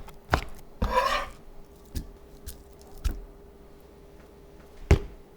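A knife slicing fatty sirloin beef against the grain into thin strips on a board: a few separate sharp cutting knocks with a short rasping scrape near the start, close and clear, no voice.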